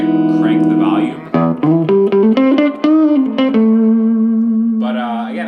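An electric guitar runs through a Supro Amulet amp set to its 1 watt mode with the volume cranked, playing sustained, overdriven chords and a quick run of single notes, close and fairly loud with no talking.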